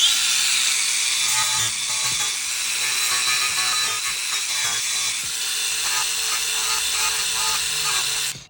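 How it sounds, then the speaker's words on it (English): Angle grinder cutting through car undertray fixings, a loud, continuous high-pitched whine and grinding screech that holds steady for several seconds before cutting off abruptly. "That's not coming off, so we've got the grinder."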